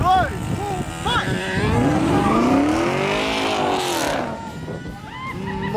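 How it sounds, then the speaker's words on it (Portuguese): A gasoline mini car and a Camaro V8 launch side by side in a street drag race. Loud engines rev and accelerate together for several seconds in a rising, sweeping roar, with brief excited shouts at the start. "É só acelerar, Bruno."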